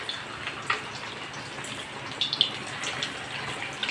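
Water is poured in a steady, splashy stream with a few soft drips and clinks, close and fairly loud, and no one speaks.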